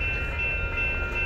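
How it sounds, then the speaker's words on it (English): A Union Pacific northbound grain train rolls past in Texas, a loud, steady low rumble of wheels and cars with a faint high tonal whine above, no pauses or voices. "That was Union Pacific westbound, that was Union Pacific northbound grain train."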